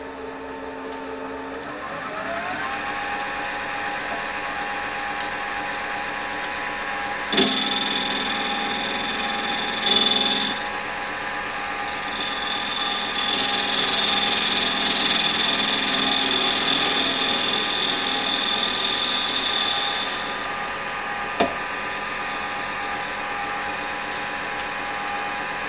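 A metal lathe facing off stock for radio knob trim rings: a steady motor drone with a thin, sustained cutting whine rising over the middle stretch, then settling back to the running machine.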